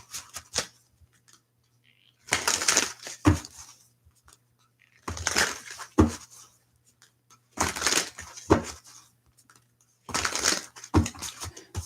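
Tarot cards being shuffled during a reading, four separate bursts of riffling and crackling, each a couple of seconds long, with quiet pauses between them, close and clear.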